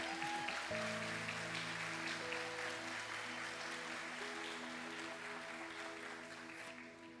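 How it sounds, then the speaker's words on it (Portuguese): A church congregation applauding during a sermon, soft, continuous clapping layered over held keyboard chords, gradually easing toward the end. "Você pode aplaudir a Jesus aí por isso?"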